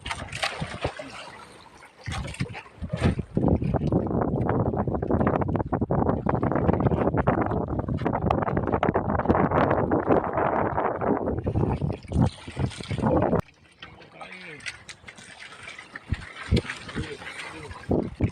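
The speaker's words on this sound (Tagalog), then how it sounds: "medyo lumalakas na rin yung alon tsaka yung hangin." Strong wind at sea roars continuously against the microphone aboard a fishing boat, with waves sloshing beneath, easing briefly then gusting again near the end.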